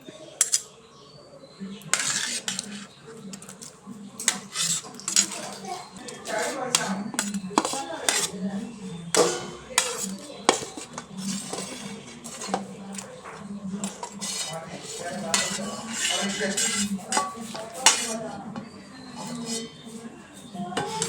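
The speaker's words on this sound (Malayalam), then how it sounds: "ഈ സമയത്ത് നമുക്ക് മീൻ കഷ്ണങ്ങൾ ഇട്ട് കൊടുക്കാം" Fish pieces go into boiling curry paste in a pot for a Kottayam-style Kerala fish curry, with close, irregular metallic clinks and scrapes of utensil on pot repeating throughout.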